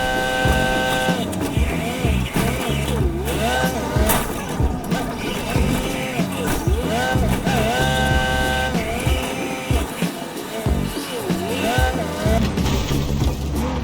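A car engine in the driving game GTA V or Cyberpunk drones and revs continuously, its pitch rising and falling as the vehicle is driven, loud and steady throughout.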